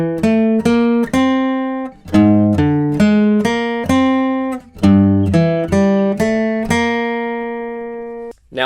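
Alternate-picked guitar plays a full line of the Westworld theme, a steady run of close, bright plucked notes in repeating phrases that ends on a long sustained ringing note, with no talking.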